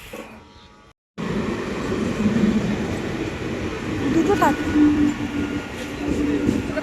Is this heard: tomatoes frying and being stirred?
no